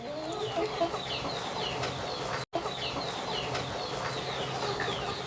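Chickens at a home farm with fish ponds cluck and chatter continuously, several birds calling over one another in a busy, close flock with a brief dropout midway.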